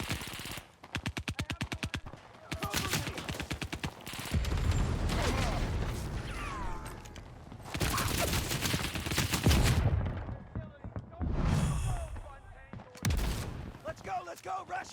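Rapid automatic gunfire from the CrossfireX shooter game on Xbox Series S, with dense bursts and sustained volleys filling most of the span, broken by short gaps and louder blasts, with a player talking over parts of it.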